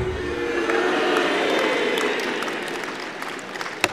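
An audience at a Deyun She crosstalk comedy show applauds, a loud, sustained burst of clapping and cheering that gradually thins out, ending with a single sharp clap.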